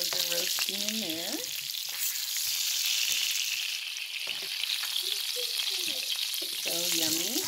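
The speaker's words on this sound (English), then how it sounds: "I cut fresh garlic slices, and those are roasting in there." Fresh garlic slices roast in bacon fat while beef short ribs cook. A steady, close crackling sizzle runs throughout, and a voice is briefly heard at the start and end.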